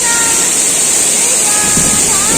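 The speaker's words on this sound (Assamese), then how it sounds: "ডিকয় জলপ্ৰপাত, এয়া চাওক ডিকয় জলপ্ৰপাত" Dikoy waterfall near Nagaon, Assam, roaring as a steady broadband wash of rushing water, loud and continuous throughout with no pause, wind gusting over it on a stormy day.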